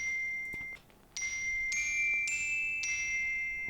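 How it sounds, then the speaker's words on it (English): Small bells in a music track, light high-pitched dings repeating every half second or so, bright and clear with short rings, one brief gap near the start before the pattern continues. "then some small bells"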